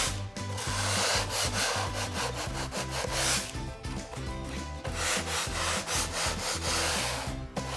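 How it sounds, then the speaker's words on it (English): A surface in a laundry room is hand-sanded with sandpaper before stenciling, giving quick, rhythmic back-and-forth rasping strokes up close in two bursts with a brief pause between them. "I'll just take my sandpaper to make sure that there's no greasiness left on my surface."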